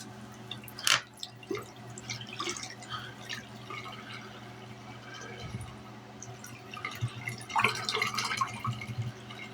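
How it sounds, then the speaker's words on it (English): Water trickles and splashes while a McCafe cup is rinsed out, faint and uneven with a few louder drips and sloshes over a low background hum. "I was trying to rinse out this McCafe cup."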